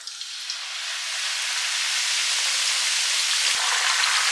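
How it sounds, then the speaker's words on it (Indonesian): Kaffir lime leaves frying in hot oil give a steady, dense sizzle and crackle that builds slightly and then holds, close and uninterrupted. "Nah sekarang saya mau menggoreng daun jeruknya ya."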